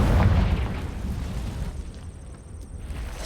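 A Confringo blasting spell explodes in Hogwarts Legacy, a loud, close boom with a heavy low rumble that hits at once and then rolls away and fades over a few seconds.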